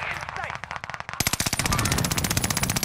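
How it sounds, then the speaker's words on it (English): Rapid automatic gunfire in Call of Duty: Modern Warfare battle royale, loud, tightly spaced bursts after a brief stretch of lighter shooting, with voices underneath. "I missed all my shots on him"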